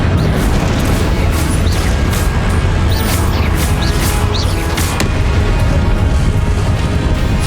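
Spell explosions burst in a Hogwarts Legacy fight, a loud dense barrage of booming blasts and crackling pops that runs continuously with no talk over it.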